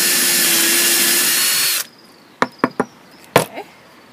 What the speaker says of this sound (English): So let's give that a go by just drilling quickly.